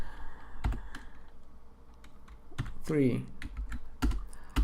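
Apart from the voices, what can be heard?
typing Python code on a computer keyboard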